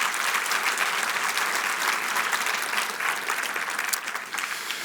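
A church congregation breaks into sustained, dense applause that stays loud and even for several seconds, with only faint voices underneath.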